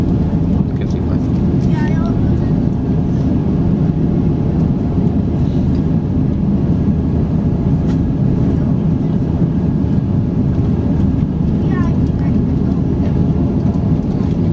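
A Singapore Airlines Airbus A350-900 takes off from San Francisco airport, a loud continuous broadband jet roar rumbling steadily throughout, heard from nearby with faint voices underneath.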